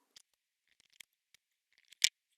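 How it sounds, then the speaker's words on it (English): Scissors cut out a paper Christmas card piece, a few quiet crisp snips spread apart with one louder closing snip near the end, close and alone without talk. "Cut this out."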